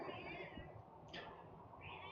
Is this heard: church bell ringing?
no